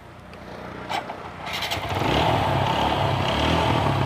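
A second-hand motorcycle engine starts with a brief clatter, then settles into a steady, close running rumble, alone without talk.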